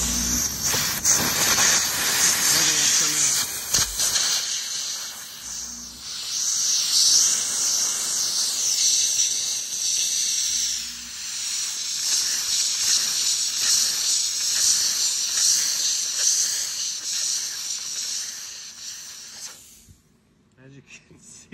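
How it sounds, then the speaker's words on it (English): A high-pressure dry vapor steam cleaner blasts into the bolt track of an M240 machine gun, a loud, steady, close hiss lasting about twenty seconds with slight wavering before it cuts off. "I'm going to steam this out and then scrape it."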